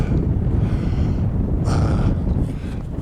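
Wind gusting outdoors over rocky hills at the edge of town, buffeting the microphone in low rumbling surges with a brief brighter whoosh midway, no talk.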